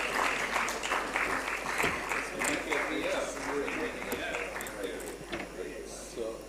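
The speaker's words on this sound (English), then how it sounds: "A big round of applause." Conference award audience giving a big round of applause, dense clapping mixed with crowd murmur and cheering, steady and fairly loud across the whole stretch.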